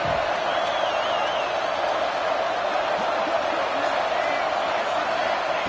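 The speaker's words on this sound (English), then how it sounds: "The crowd coming to life here, trying to help this defense down in the red zone." Steady stadium crowd roar from an American football video game, with the defense in the red zone, filling the whole stretch as a dense, continuous wash of cheering that stays loud without clear peaks.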